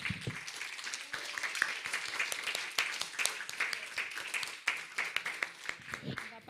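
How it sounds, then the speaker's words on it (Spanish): Congregation applauding during a Spanish-language church service, steady clapping throughout with voices mixed in. "¿Por qué no le damos un fuerte aplauso a Dios?"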